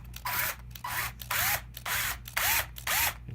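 A drill bores into wood during woodturning, about five loud, close, whirring bursts that rise and fall in an even rhythm with brief pauses between them, and no talking.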